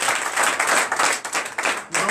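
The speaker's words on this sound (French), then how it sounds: "Donnez de vives acclamations." A congregation at a night deliverance and prophecy church service breaks into loud, continuous applause and cheering, a dense wash of clapping with voices mixed in throughout.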